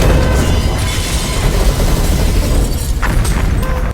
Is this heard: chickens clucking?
no